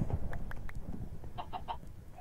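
Minecraft chickens crowded in a farm, a series of short quiet clucks in quick succession, faint and fairly close with no talking.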